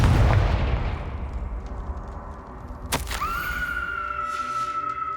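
A Confringo fire spell blasting in Hogwarts Legacy, one sharp explosive crack midway through, followed by a ringing magical tone that hangs over a low background rumble.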